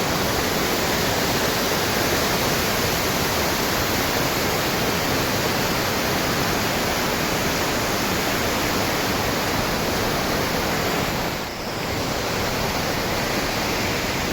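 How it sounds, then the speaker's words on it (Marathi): Rushing river water roars continuously in Aru Valley, Kashmir, a dense, steady wash of noise with no pauses or voices. "इथं जी रिव्हर आहे त्या पाण्याचा आवाज खूप छान असा येत आहे"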